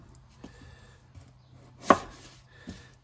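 Knife chopping an onion on a board: a few sparse, separate cuts in a quiet room, one noticeably sharper than the rest.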